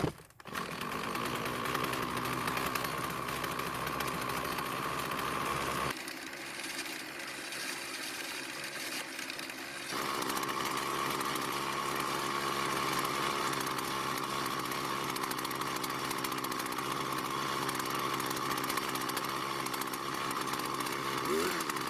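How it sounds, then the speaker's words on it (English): A small gas string trimmer engine runs steadily after an idle adjustment, a buzzy high whine that dips briefly to a lower idle and then climbs back to a sustained fast drone. "The engine seems to be running just a little too fast"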